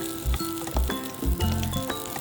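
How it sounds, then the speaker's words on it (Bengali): Cut pointed gourd (potol) fries in a little leftover oil in a wok, a steady close sizzle with brief stirring bursts over a low, blocky background tone. "ওই একই কড়াতে যেটুকু তেল আছে তাতেই কেটে রাখা পটলগুলো দিয়ে লাল লাল করে ভেজে নেব"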